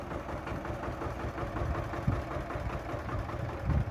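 A tractor engine idles steadily and close by, a low continuous rumble with light vibration and a couple of small thumps, with no talk over it.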